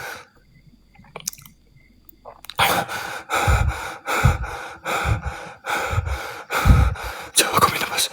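A person takes a series of deep, heavy breaths in and out, loud and close, in a steady rhythm after a brief near-silent start, with no talking.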